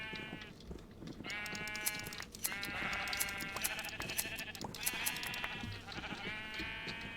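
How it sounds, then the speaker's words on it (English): Sheep in Minecraft bleat repeatedly in quick succession, several animals calling and overlapping in a busy, continuous chorus with no voices. "it's also great that we have a brown sheep now"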